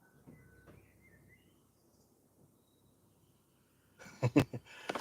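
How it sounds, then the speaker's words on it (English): Noisy parakeets calling outdoors, a cluster of loud, harsh chirps and squawks bursting near the end after mostly quiet ambient background. "Got parakeets there, very noisy."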